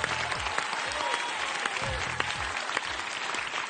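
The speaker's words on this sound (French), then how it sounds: "applaudissements, c'est à vous" A television game show studio audience applauds, with dense, steady clapping that holds at an even level throughout and no break.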